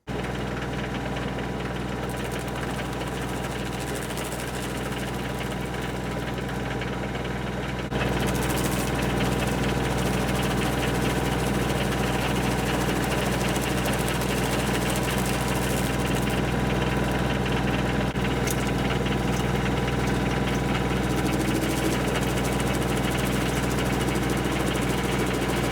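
A Baumalight Powerhouse stump grinder chews through a 10-inch pine stump, its engine droning steadily and loudly throughout, with a slight step up in intensity partway through and continuous grinding texture beneath.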